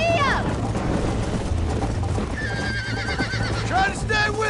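A horse in the Western game Red Dead Redemption whinnies loudly several times over a steady clip-clop of trotting hooves, with game music and ambience running underneath throughout.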